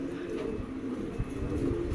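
Nun pigeons offered by a wholesale pigeon seller coo in low, continuous rolling murmurs, fairly close, with a few soft background noises and no speech.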